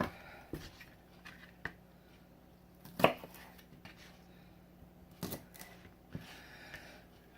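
A knife thinly slicing green onions on a cutting board, giving sparse, crisp chops at uneven intervals, close and fairly quiet against a low room hum.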